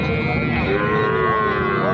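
A Sahiwal bull calf at a border-area cattle market lets out a single loud, drawn-out moo close by, with faint market chatter behind it.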